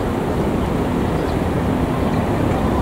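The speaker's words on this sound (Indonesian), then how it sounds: "Barusan berpapasan dengan kereta api Serayu ya" The Serayu passenger train passes close by near Bandung, a continuous loud rumbling roar of rail traffic with no distinct horn or clacking, steady from start to finish.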